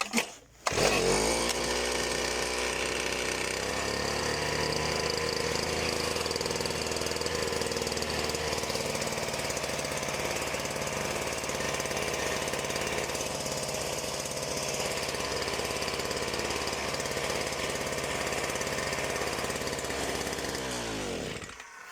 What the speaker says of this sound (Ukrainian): Мотор новий заводиться легко